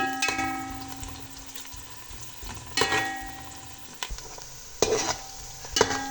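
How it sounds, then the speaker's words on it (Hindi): Onions frying in a pan for a roasted cauliflower chicken curry, with a soft continuous sizzle broken by several sharper scrapes and stirs, close by and without any talk. "यहाँ पे मैं अपने प्याज को फ्राई कर रही हूँ।"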